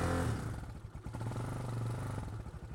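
A Sol Invictus Mercury cafe racer motorcycle engine runs close by just after starting, a steady rough putter with rhythmic pulsing and some mechanical clatter.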